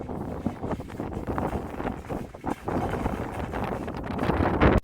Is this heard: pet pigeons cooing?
no